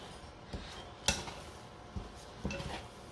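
Whole grain sourdough bread dough being stirred in a bowl, giving a few scattered knocks and clinks of the utensil against the bowl, one sharper clack standing out, with no voices.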